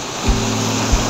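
Ocean waves wash onto Caparii Beach in San Vicente, Palawan, giving a steady broadband surf rush with two soft low thumps and no voices.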